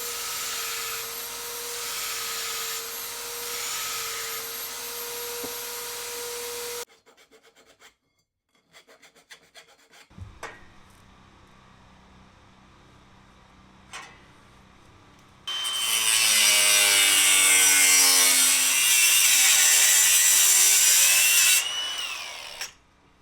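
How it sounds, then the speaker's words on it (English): Electric sander grinding slag off metal pieces for a screen-printing drying rack, a loud harsh rasp that runs for several seconds. Quieter scraping and handling follow, then a second long, louder burst of sanding before it stops. "for the outside I have this handy dandy sander here, so I'm just going to use that"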